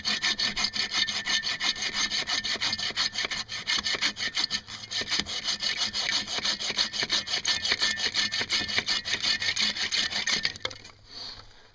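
A 15 or 17 inch Sven saw cuts through wood in steady back-and-forth rasping strokes. The sawing is close and loud, with no talking, and it stops near the end.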